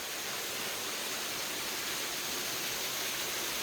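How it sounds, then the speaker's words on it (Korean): Jurom Falls, a mountain waterfall in the canyon of Samaksan in Gangwon-do, gives off a steady, even rush of falling water that continues unbroken with no voices. "조금 올라가면 만나는 폭포는 주렴폭포인데요."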